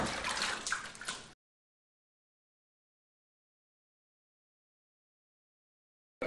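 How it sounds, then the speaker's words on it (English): A quick splashy slosh of water from a fist punching into it, then silence, with another splash starting right at the end. "apply force onto the water by punching the water"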